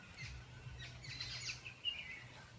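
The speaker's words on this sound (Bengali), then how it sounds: "পাখিগুলো কিজমিজ করছে" Small birds chirp and twitter in short, scattered calls at a moderate distance, faint against a soft low rumble of background noise, with no voices.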